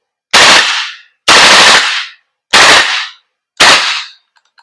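A VFC BCM MCMR airsoft gas blowback rifle fires in burst mode: four loud, close bursts of rapid shots, each followed by a short gap, with no talking.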